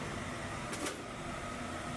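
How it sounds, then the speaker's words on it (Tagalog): A bathroom exhaust fan runs with a steady, even whir and low hum, close and constant throughout with a brief faint rattle midway, no one speaking. "Pag sindi ng ilaw sa CR, yung exhaust fan natin dapat gumana din."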